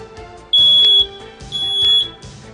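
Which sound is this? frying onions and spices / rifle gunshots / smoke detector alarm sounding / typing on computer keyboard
smoke detector alarm sounding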